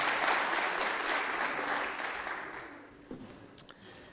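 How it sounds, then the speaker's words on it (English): An audience applauds at a 30th anniversary celebration and campaign launch, a dense, loud wash of clapping that gradually fades out over a few seconds, leaving a few isolated claps. "Let's give a round of applause."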